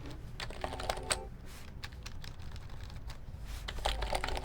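Rapid typing on a mechanical keyboard stripped of its keycaps, bare switches giving a dense, uneven patter of close, sharp clacks that continues without pause.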